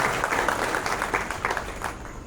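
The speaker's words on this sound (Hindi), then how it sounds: "आप तालियों से उनका स्वागत करिए" An audience in Bhind gives steady applause to welcome the police department at a public event with the superintendent of police. The clapping is continuous and moderately loud, with a slightly distant room sound, and tapers near the end.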